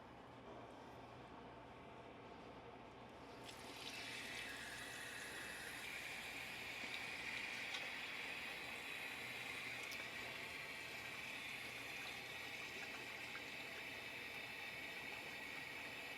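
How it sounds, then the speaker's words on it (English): Water from a kitchen tap rushes into a cooking pot for a leftover Thanksgiving turkey and sausage gumbo, a steady hissing flow that starts after a few quiet seconds and runs on evenly without talk. "And now we're going to fill it with water."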